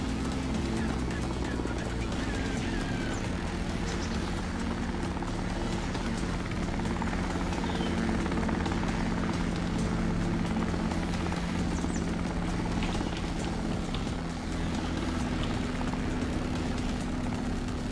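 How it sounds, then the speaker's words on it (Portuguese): A helicopter flies overhead in the video game Drug Dealer Simulator 2, a constant low rotor drone and engine hum running steadily throughout, with talk over it. "O helicóptero foi embora."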